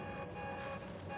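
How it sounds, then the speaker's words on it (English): Persistent electronic beeping drones steadily through the whole moment in a grimy sci-fi video game interior, a loud, unbroken tone with a faint hum underneath and no talk. "You got some weird beeping noise going on in here."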